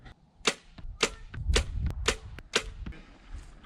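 Compound bow, a Diamond Archery Edge SB-1, firing arrows at a target: a series of sharp, crisp snaps and thwacks spaced about half a second apart, fairly close and clear over a quiet outdoor background.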